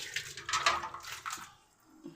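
Water poured over an old clay pot (matka) as it is rinsed clean, a close, soft splashing and trickling in uneven bursts that fades toward the end.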